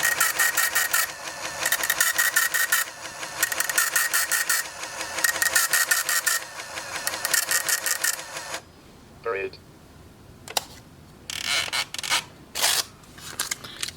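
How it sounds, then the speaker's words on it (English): An Epson HX-20 laptop's built-in micro printer runs in loud, rapid bursts of mechanical dot-matrix chatter, starting and stopping repeatedly, then a pause and a few shorter printing bursts with faint handling noise between. "So the printer is working."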